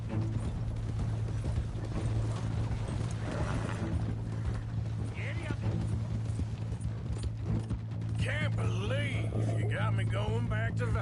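Horse hooves clip-clopping at a steady rhythm in the video game Red Dead Redemption 2, under continuous voices talking, with a low hum throughout.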